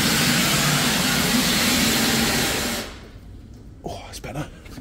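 Steam roars loud and steady from the line drain of an industrial steam engine being warmed through at a steam museum, then cuts off abruptly, leaving quiet with a few faint clanks.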